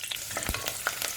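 Cinnamon, bay leaf, fennel seeds and garlic crackle and spit in hot oil for a Chettinad sprouted lentil curry, a brief burst of close, busy sizzling pops.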